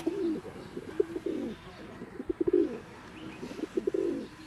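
Pigeons coo in a loft in Bambang, Nueva Vizcaya, a series of low rolling coos in several bursts, close and fairly loud, with a few sharp taps or wing flicks between them.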